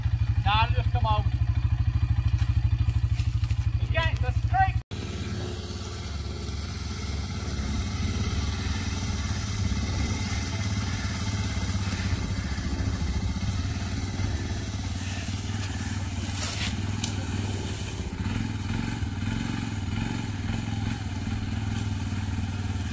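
Three-wheeled Honda ATV engine running in the woods on a farm, a steady droning rumble close by, with a sharp break early on before the engine noise continues; voices talk over it.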